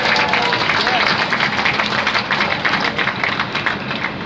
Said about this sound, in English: how about a big round of applause to all of our farmers?